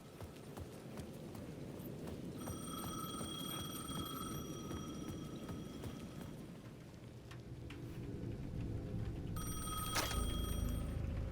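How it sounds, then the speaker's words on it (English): An old payphone at the edge of a plaza in Alan Wake 2 rings in steady bursts over a bed of steady rain and a low rumble, the ringing clear but somewhat distant. "The payphone at the edge of the plaza was ringing again."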